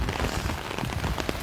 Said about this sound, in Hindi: ये देखो क्या मज़े की बारिश, तूफानी बारिश